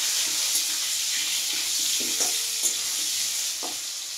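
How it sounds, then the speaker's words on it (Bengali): Potatoes fry in hot oil for a spicy mutton dish, a continuous close sizzle with a few scattered spatula scrapes and taps. "তেল গরম হয়ে গেছে, এবারে আমি এটাতে আলুটা দেব। প্রথমে আমি আলুটাকে ভাজবো।"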